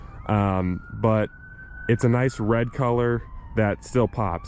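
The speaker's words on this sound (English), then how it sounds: "sorry for the sirens in the background" A police siren wails faintly in the background, a thin drawn-out tone rising slowly beneath someone talking close up in a quiet interior.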